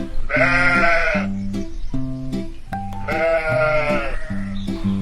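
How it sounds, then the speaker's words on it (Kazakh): A sheep bleats twice, loud and close, each a long wavering call, with short gaps between them. "Қой қандай дыбыс шығарады?"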